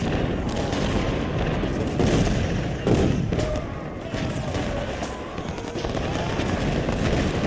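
Heavy Civil War battle gunfire and artillery in Ultimate General: Civil War, a dense continuous roar of massed musket volleys with booming cannon shots throughout, loud and unbroken.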